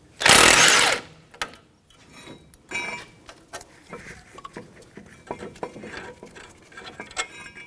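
Caliper bracket bolts on a 2007-2017 Jeep Patriot 2.4L being loosened with an 18mm socket: a loud burst of ratcheting or air tool at the start, then scattered metallic clinks and taps of tools and parts.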